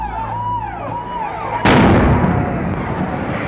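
A sudden loud blast cuts through rising whistling tones, followed by a long crackling, roaring decay.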